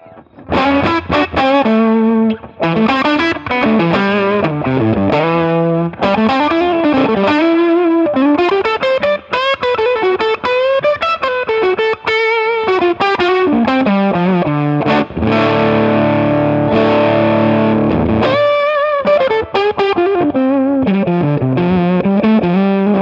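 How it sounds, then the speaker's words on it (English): A loud, continuous overdriven electric guitar plays a melodic riff with gritty distortion and sustained notes, no voices present. "Let's test this whole situation with the overdrive sound."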